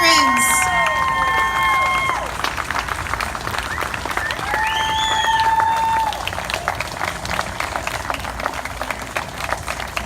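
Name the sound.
applause for veterans at a ceremony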